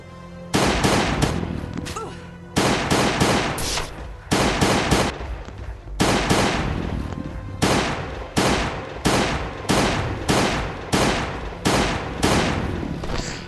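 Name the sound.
firearm gunfire in Last Day on Earth video game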